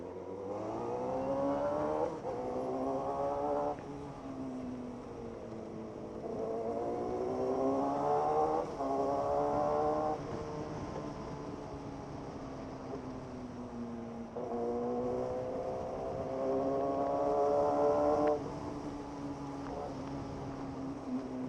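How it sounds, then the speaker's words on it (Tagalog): A Suzuki GSX-R1000 motorcycle works through EDSA traffic, its engine revving up and easing off again and again in close, continuous rising and falling surges, with no talking. "Oh shit, it's traffic."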